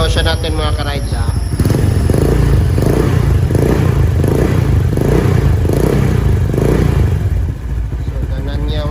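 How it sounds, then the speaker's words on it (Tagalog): A Honda Click 125i scooter fitted with an Exos X6 exhaust muffler revs in steady repeated pulses, loud and close, with a person talking over the engine in the first moments. "I-revolution natin mga ka-rides ha."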